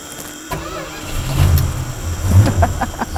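A 1970 Plymouth Superbird cranks and fires up promptly, its V8 catching with a loud rumble and settling into a rough, lumpy idle nearby.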